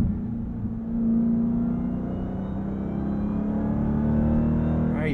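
Supercharged engine of a 2023 Dodge Durango SRT Hellcat accelerating at high revs, a steady tonal whine riding over a deep engine rumble, rising slightly in pitch as the revs climb, heard from inside the cabin.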